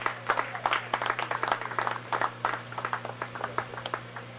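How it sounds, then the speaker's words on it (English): An audience claps for an honoree at a 2019 HIFA Cross River certificate presentation in Calabar: dense, uneven clapping from many hands, fairly close, over a faint steady hum. "Clap for her, please."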